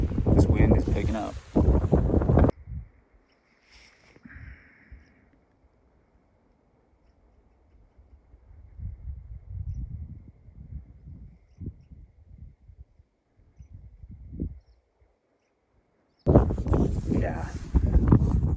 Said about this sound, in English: this wind is picking up